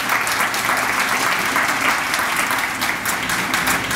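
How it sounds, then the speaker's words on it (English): Audience at a youth leadership cotillion breaking into applause, a full, even wash of clapping from many hands that holds steady throughout. "Please join me in giving them all a round of applause."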